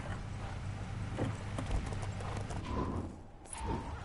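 Horses in a LEGO video game clip-clop in a steady run of hoofbeats, with a brief whinny, moderately loud over a busy game background.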